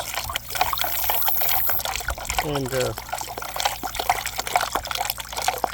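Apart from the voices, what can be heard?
stirring homemade liquid plant food with water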